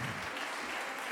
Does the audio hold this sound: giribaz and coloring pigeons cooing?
no